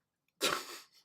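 A dog that is unwell gives a single short, sharp sneeze close by, a brief breathy burst that fades out within a fraction of a second.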